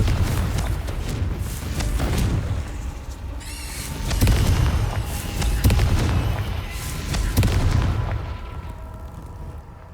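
Repeated Confringo fire-spell blasts in the video game Hogwarts Legacy, loud booming explosions arriving in several waves with rumbling low end and crackling debris, no talking.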